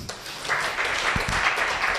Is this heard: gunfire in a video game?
no